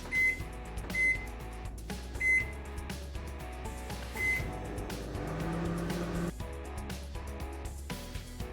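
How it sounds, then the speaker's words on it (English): A microwave oven running on a three-minute setting while an instant Oreo mug cake cooks, giving a steady low hum with a few brief higher beeps or clicks, close and fairly quiet. "Keep it in the microwave. Set the microwave to 3 minutes."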